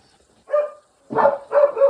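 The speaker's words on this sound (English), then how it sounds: "we got dogs, 5 dogs in the" Household dogs barking indoors, three short close barks after a brief silence, the last two in quick succession.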